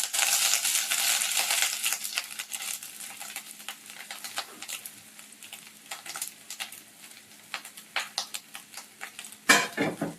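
Grated coconut and poppy seeds stirred and toasted in a pan over medium heat for modak filling, a soft continuous scraping and light sizzle with sharper spoon clinks near the end.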